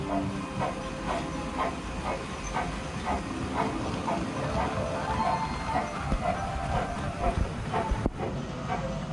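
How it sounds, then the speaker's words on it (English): A toy train runs through a home Lego world layout with Mickey and Minnie figures, a rattling rhythmic clatter of wheels over track sections with faint mechanical hum, fairly close throughout. "Here comes the train."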